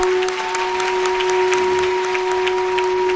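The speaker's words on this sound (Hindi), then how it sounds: "ताली बजाकर स्वागत करें।" Applause from an audience at a ceremony welcoming an award recipient, a steady wash of clapping running the whole time over a constant electrical hum.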